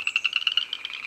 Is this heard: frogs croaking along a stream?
yes